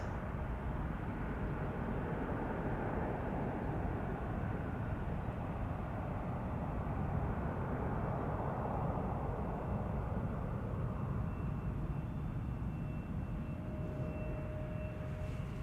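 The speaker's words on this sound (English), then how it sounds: "the sound of airplanes taking off in the background" A steady, broad roar of jet engines rumbles continuously in the distance, unchanging for the whole stretch with no voices.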